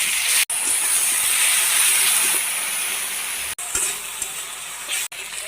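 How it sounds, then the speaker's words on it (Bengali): Spices are added to a pan of fried onions and sizzle in a loud, close, steady hiss, with a few brief cuts and small clinks from stirring and no speech. "পেঁয়াজ ভাজা হয়ে গেছে, এখন মশলা দিয়ে দিচ্ছি।"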